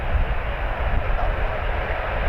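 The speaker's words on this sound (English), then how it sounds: "this is WestJet 858 to Montreal on a 737 MAX 8" A Boeing 737 MAX 8 jet of WestJet at Toronto Pearson airport, a steady low engine roar and rumble holding level throughout, with no speech over it.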